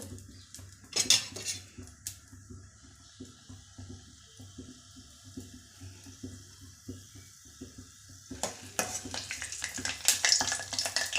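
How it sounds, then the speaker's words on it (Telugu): Tempering seeds and dried red chillies sizzle and crackle in hot oil, with a spoon clinking and scraping against the pan; a louder burst of frying near the end, no talking. "ఆయిల్ బాగా వేడెక్కాక తాలింపు గింజలు వేసుకుంటున్నానండి"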